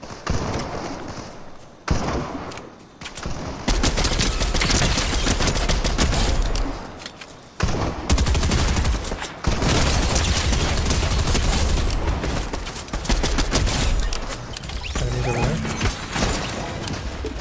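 Video game gunfire rattles in dense bursts and sustained automatic volleys, loud and close, with brief pauses between fusillades and no clear talk.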